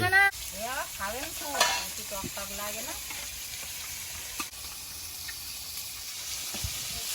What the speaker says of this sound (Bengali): একটা একটা করে তো যেগুলো ভাজা হচ্ছে তুলে নিচ্ছি